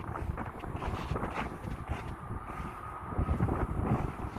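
Breezy, cold wind buffeting a microphone outdoors at Sydney Airport, a continuous rough low rumble with gusty swells and a faint distant aircraft-like drone beneath.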